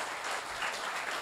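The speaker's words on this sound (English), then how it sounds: "That's even enough to give Pastor Tunde Bakare a round of applause for." A brief burst of continuous audience applause at a public policy dialogue event, a dense, even wash of clapping at moderate loudness with no speech over it.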